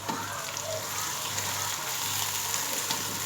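Onions fry in a pan for chicken korma until golden, producing a continuous close sizzle and crackle with light stirring scrapes and faint low background noise.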